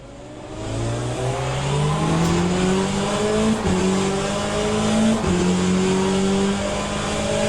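Race cars from the Le Mans Ultimate racing game roar close and loud, engines climbing steadily through the gears with rising pitch, brief shift breaks and hints of tire squeal, with no speech.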